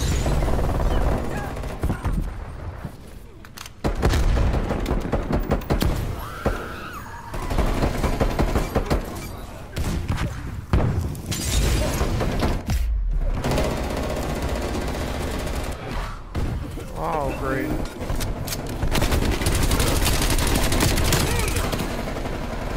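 Dense, loud gunfire from a Call of Duty Black Ops Cold War match, bursts of automatic fire and single shots crackling almost continuously with brief lulls, a player's voice occasionally under the shooting.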